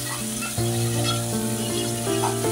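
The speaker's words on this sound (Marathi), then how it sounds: "मोठे मोठे कांदे घेतलेले आहेत। आणि आता हे छान परतवूया" Large onions sauté in a pan for a brown chickpea and suran (elephant foot yam) curry, giving a steady sizzle that swells slightly partway through, close and continuous with no talking.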